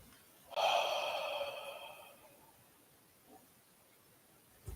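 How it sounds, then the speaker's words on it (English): A single deep, audible breath taken during a meditation practice, a strong airy draw that swells, then fades slowly over about a second and a half, followed by near silence and a faint soft breath at the close. "take a deep breath"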